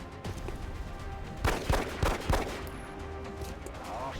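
Gunfire in XCOM: Enemy Within, a few sharp separate shots in quick succession, moderately loud over a constant background hum of game ambience.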